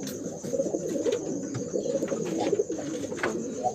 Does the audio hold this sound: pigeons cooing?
yes